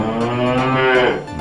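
A cow moos in one long, loud, drawn-out call with a rich harmonic tone that bends upward near the end, close by and with no talking over it.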